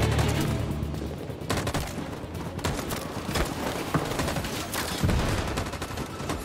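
A firefight in the video game Detroit: Become Human brings dense, rapid gunfire with overlapping bursts and a few heavier impacts, loud and continuous throughout.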